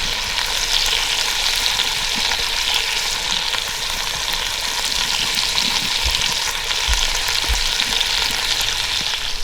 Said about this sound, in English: we are gonna fry this tri-tip steak in this lard and develop a little melanoidins on it, or some crust